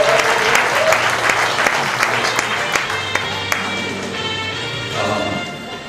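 Warm welcoming applause from a crowd at the office opening ceremony of a Gyeonggi provincial council candidate in Icheon, loud and steady at first, then gradually thinning out, with a low steady hum underneath.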